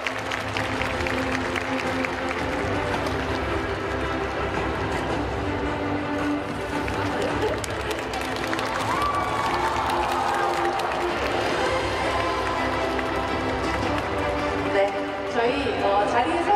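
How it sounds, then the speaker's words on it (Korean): Audience applause and crowd noise welcome the LTNS directors and actors at an open talk during the 28th Busan International Film Festival, a steady, dense clapping that runs throughout with voices mixed in. "큰 박수 부탁드립니다."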